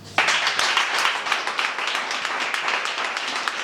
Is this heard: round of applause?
yes